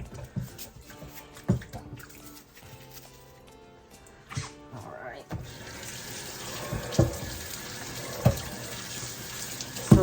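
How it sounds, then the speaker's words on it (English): Apples rinsed under a running kitchen tap, with a steady broadband rush of water that grows fuller and louder after the first few seconds, punctuated by occasional clunks and splashes as the fruit is handled in the sink. "And then we're going to rinse them off."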